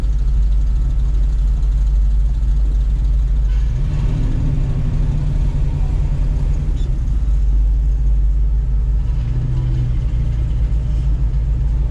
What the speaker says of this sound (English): That Mustang pulling out.